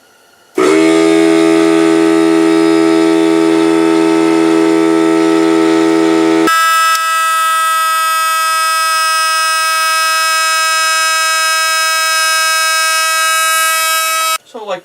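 A small Anvil 2-gallon air compressor runs with a loud, steady motor drone after switching on, its pitch shifting once partway through, then cutting off at the end.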